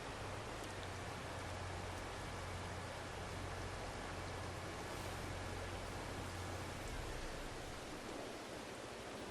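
Steady rain hisses evenly in Farming Simulator 22, a dense unbroken wash of falling drops with a low engine-like hum underneath for most of the stretch.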